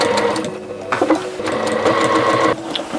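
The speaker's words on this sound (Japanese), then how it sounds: "そしたらミシンをゆっくりここからこの折り目に沿ってゆっくりかけていきます" A sewing machine stitches slowly along a fold in yukata fabric being made into a blouse, a close, loud, rapid mechanical whirr with brief pauses and stops.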